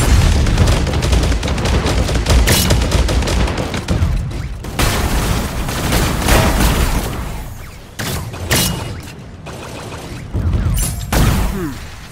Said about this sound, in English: Whoa, who fired on us?